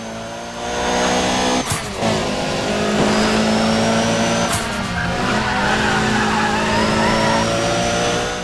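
A racing car in Need for Speed ProStreet roars at steady speed with tire squeal and two sharp impacts as it clips a wall, loud and continuous, with no talking.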